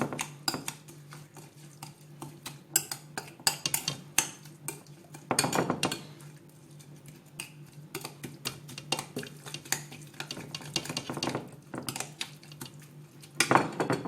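A utensil clinks and scrapes against a bowl while chicken baguette filling is mixed, irregular metallic knocks and taps at close range with a few louder clatters, no voices.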